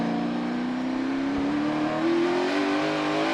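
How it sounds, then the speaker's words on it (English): A NASCAR Cup stock car on worn tires accelerates at the Toyota/Save Mart 350, its engine droning loudly and steadily while the pitch slowly climbs through the whole stretch, with no voice over it. "You heard how long Kyle Busch had to wait to get back into the throttle"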